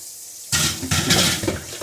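Tap water runs over carrots and celery being rinsed in a sink, starting abruptly after a brief quiet moment and splashing steadily and close at hand.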